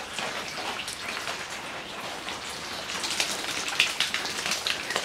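Steady rainfall with pattering drops on a surface, a continuous broadband hiss that grows slightly denser and louder toward the end, no voices.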